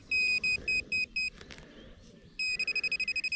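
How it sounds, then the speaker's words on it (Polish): A metal detecting pinpointer beeps in rapid, evenly spaced chirps, pauses briefly amid rustling soil, then resumes with a quicker run of sharp beeps, close and clear over a faint outdoor background. "Już słyszę, jak pinpointer pika."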